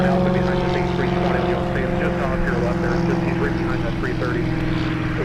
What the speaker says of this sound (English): That was a little Cirrus SR-22, private owner